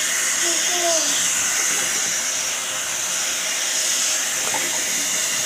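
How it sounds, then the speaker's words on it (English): Tap water runs steadily for hand washing, a constant close hiss that fills the whole stretch with no break. "let me wash my hands first"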